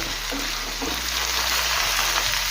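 Ivy gourd and potato pieces frying in a pan, a steady hissing sizzle with a couple of soft stirring knocks near the start, close up and alone.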